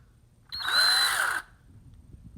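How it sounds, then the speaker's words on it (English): A power drill spins briefly, twisting a pair of wires clamped at one end in a vise for a wiring harness, a loud whirring burst just under a second long that rises and settles, with quiet room noise before and after. "And you can duplicate that with just putting one end in a vise and then the other end in a drill."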